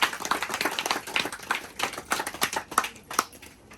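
An audience applauds together in a gathering about a fertility doctor, with many overlapping hand claps forming a steady, fairly loud, continuous patter with a few sharper individual claps standing out.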